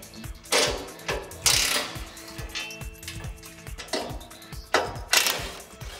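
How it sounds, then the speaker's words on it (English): Upper bolts being undone on a TWIN BUSCH TW 242 PE or 236 PE clear floor car lift, with a steady rhythmic ratchet clicking broken by louder metallic clanks and scrapes, close and without speech. "Now remove the upper bolts."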